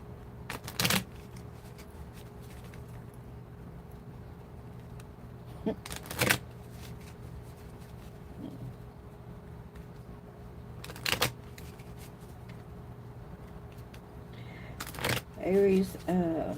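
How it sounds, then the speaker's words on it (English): A deck of tarot cards is shuffled in a few short, crisp riffling bursts spaced apart over a low steady hum, with a voice briefly heard near the end. "Shuffle the little cards."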